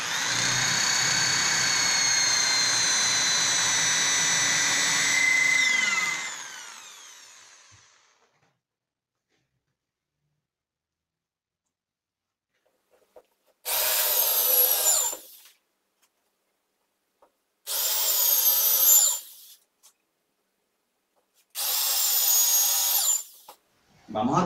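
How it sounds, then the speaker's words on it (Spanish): A power drill bores 8 mm holes in a melamine nightstand panel. A long whining run winds down, then three short loud bursts follow with silent pauses between them. "Vamos ahora a perforar con nuestra broca de 8 milímetros en la marquita que hicimos."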